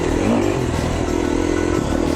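A 2011 KTM 350 XC-F dirt bike engine runs on a Utah trail, a close, rapid four-stroke putter rising and falling in pitch as the throttle changes, with some clatter.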